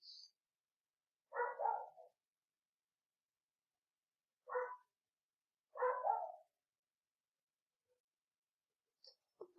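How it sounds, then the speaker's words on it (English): A dog barks in three separate bursts, a short double woof near the start, a single sharp bark, then a longer double bark, each loud and close with silence between. "He's barking."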